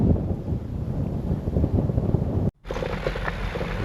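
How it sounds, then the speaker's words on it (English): Strong wind roars and buffets the microphone at a wildfire helicopter staging area, with steady loud rumbling gusts and a brief sudden dropout before the blustering resumes. "Definitely windier than yesterday right now."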